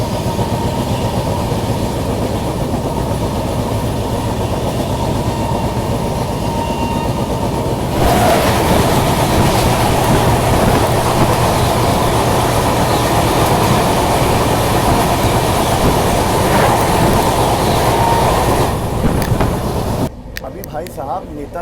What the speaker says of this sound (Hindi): सामने से आ रही है कालका से चलकर हावड़ा को जाने वाली नेताजी एक्सप्रेस